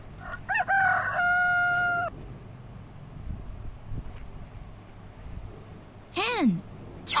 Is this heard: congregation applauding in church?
no